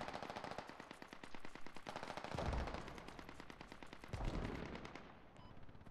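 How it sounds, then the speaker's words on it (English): Rapid bursts of automatic machine gun fire in the military shooter game Squad, loud and sustained across the whole stretch, with a couple of heavier booming impacts and no talking. "Keep up that machine gun fire"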